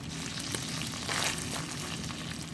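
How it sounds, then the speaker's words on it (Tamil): Onion frying in butter with ginger garlic paste gives a steady, close sizzle and crackle that runs without a break, with a brief stronger burst partway through. "இப்போ வெங்காயம் ஆட் பண்ணிக்கொள்வோம்"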